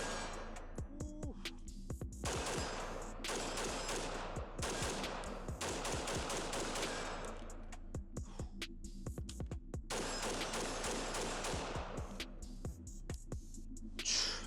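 Rapid gunfire from a 13.8-inch pin-and-weld flagship rifle at a shooting range: long strings of fast, sharp shots in bursts with brief pauses between, loud and close with echoing reports.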